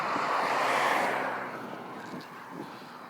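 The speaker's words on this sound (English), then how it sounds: "There's people driving by" Cars pass by outdoors on a street in a small Ohio town, a broad whooshing swell that peaks early and then fades to a steady rumble, blended with wind noise on the microphone.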